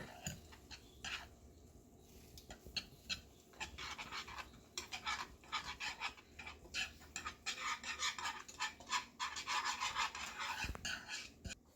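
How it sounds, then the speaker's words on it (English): A whisk scrapes and clinks against a pot as seasonings are stirred together in boiling liquid, producing quick irregular rasping bursts at close range that grow denser toward the end, with no talk. "now we're gonna whisk all of the stuff together"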